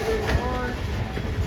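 Train rolling past on rails, a steady loud rumble with rhythmic wheel clatter, ending a day of trainspotting; a voice talks over it.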